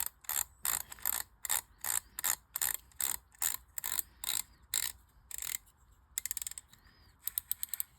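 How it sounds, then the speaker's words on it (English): An Abu Garcia Cardinal Max 5 spinning reel's freshly oiled clicker ratchets in rapid bursts of sharp, close clicks, evenly spaced, then quicker uneven flurries toward the end. "It's got a clicker. There's the clicker we just oiled."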